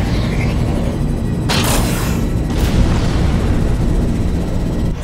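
Broadside cannon fire from a spaceship in Rebel Galaxy: loud booming blasts with bright bursts of crackle over a steady deep rumble, two main volleys about a second apart.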